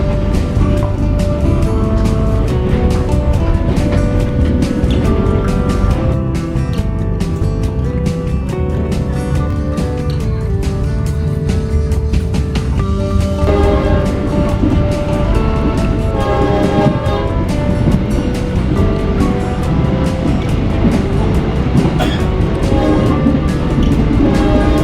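The KA Sribilah Utama passenger train runs along rails near Rantau, heard from inside as a loud, continuous rumble with steady rolling noise and rattling throughout.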